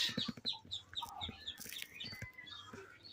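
Native chickens clucking in a busy, repeated series on a farm, with sharp higher chirps from other birds mixed in nearby, alongside Chinese ducks.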